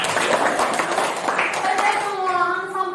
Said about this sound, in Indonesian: kita beri tepuk tangan dulu untuk Jadi